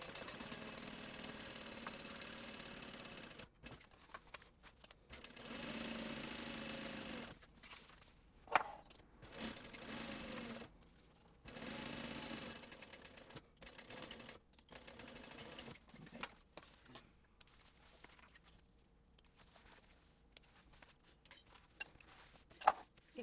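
A sewing machine back stitching a seam on a backpack, running in short bursts of rapid whirring stitches broken by pauses, close and fairly quiet.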